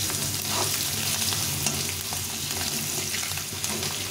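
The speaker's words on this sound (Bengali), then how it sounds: "আলুটাকে একটু ভেজে নেবো, হালকা করে একটু ভেজে নিয়ে" Potatoes with skins frying in a pan, a loud, dense, continuous sizzle with faint stirring clicks throughout, no voices.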